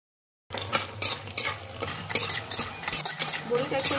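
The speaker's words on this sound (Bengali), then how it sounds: "তেল গরম হয়ে গেছে এবার আমি বড়িটা ভেজে তুলে" Bori lentil dumplings fry in hot mustard oil in a kadai, a sizzling hiss broken by repeated scraping clinks of a metal spatula stirring, beginning after a brief silence and continuing close up.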